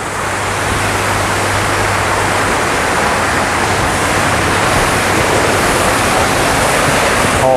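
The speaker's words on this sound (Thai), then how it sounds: "ที่เสียงซ่าซ่านี่คือน้ำตกนะครับ" Artificial waterfall at Wat Huai Kaeo temple in Lopburi, a loud, steady, close rushing hiss of falling water that continues unbroken throughout.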